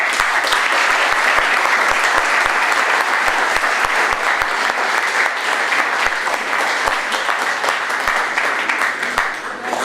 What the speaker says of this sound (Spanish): Con este aplauso creo